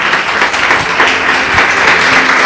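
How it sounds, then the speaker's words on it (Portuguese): A church congregation claps loudly and steadily, a dense, continuous wash of applause from many hands filling the space close by. "Palmas para Ele. E bem forte."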